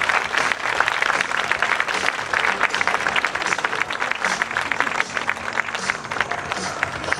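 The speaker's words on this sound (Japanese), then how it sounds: "大きな拍手をお送りください。" An audience at an outdoor fan stage event applauds three women's football players, a steady wash of clapping from a crowd lasting several seconds.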